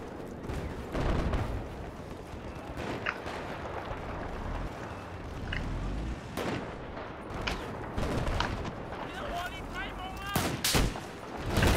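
Rapid gunfire and explosions on the Siege of Shanghai map in Battlefield 4, with bursts of automatic fire and sharp cracks near and far, continuing under players' voices.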